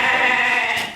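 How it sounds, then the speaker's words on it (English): Goats bleating loudly and close, a sustained, wavering nasal cry filling the second with no talk over it. "And these are goats that"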